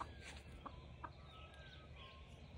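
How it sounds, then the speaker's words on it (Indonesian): A chicken in a backyard gives a few short, faint clucks over a quiet outdoor hum, with soft bird chirps in the background. "Nih ayam."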